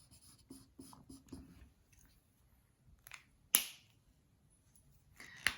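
A red pen scratches lightly across paper in short repeated strokes, quiet and close, followed by a couple of sharper taps and scrapes as the pen is set down or lifted.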